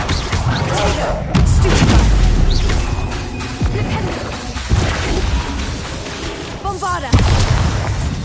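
Bombarda spell explosions in Hogwarts Legacy, heavy booming blasts and crashing impacts spread across the moment, loud and close, with spoken voices heard between them.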